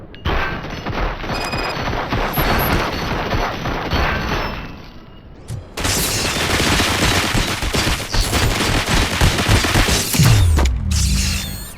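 Heavy gunfire rings out in the video game RoboCop: Rogue City: a loud, sustained fusillade of shots and impacts, broken by a brief lull, then resuming with booming crashes and mechanical clatter.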